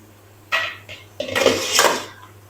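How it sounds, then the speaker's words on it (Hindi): Lid lifted off a pan of eggs cooking with potatoes, a sharp metallic clink followed by scraping and rattling cookware sounds, close and brief, with no talking. "अब हम कवर को हटा देंगे"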